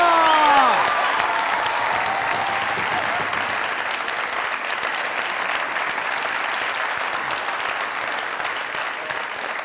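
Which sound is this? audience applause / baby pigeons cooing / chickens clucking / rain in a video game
audience applause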